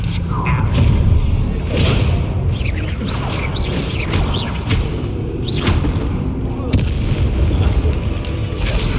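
Bombarda blasting spell explosions in the Hogwarts Legacy video game on PS4, booming thuds with crackling bursts running under game music and a voice.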